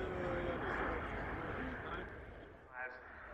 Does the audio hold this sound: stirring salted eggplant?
no